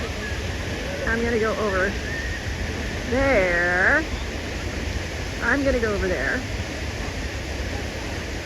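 Steady rushing water roars continuously like a nearby waterfall in Iceland's south coast, while a person speaks briefly over the constant hiss.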